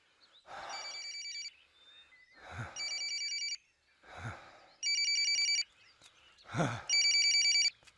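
A telephone bell ringing indoors, four bursts of bright trilling rings in a steady repeating rhythm, each preceded by a soft thump, fairly close and with no talk over it.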